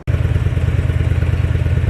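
Motorcycle engine idling steadily close by, a throbbing low rumble with mechanical clatter, starting abruptly after a brief click and running on without any talk.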